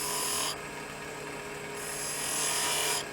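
A woodturning lathe cuts decorative rings into a small end-grain wooden bowl, giving a close, steady raspy hiss that fades for a stretch in the middle and then swells back strongly.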